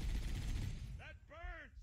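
Rapid turret gunfire from Johnson rattles in Halo: Combat Evolved, a quick burst of dense shots at the start, followed by a few short voice-like calls.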